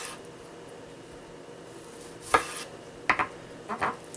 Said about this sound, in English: Chopping some slices.